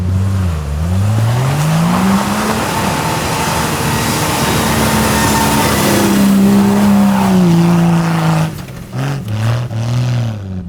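A Jeep Wrangler LJ with a manual gearbox, running in third gear on low-range reduction with tyres at one bar, drives off-road. Its engine drones loud and close, the pitch rising and falling, then dipping and revving unevenly near the end, with no voices.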